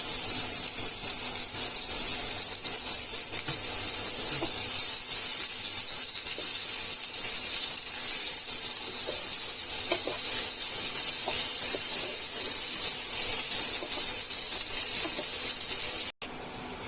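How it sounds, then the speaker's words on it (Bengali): Chopped garlic and onion fry in a wok for chicken soup, giving a loud, continuous, close sizzle with faint stirring scrapes that holds steady for about sixteen seconds before cutting off abruptly. "রসুন আর পেঁয়াজটা কড়াইতে 3 থেকে 4 মিনিট হালকা নেড়ে ভাজা ভাজা হয়ে গেলে"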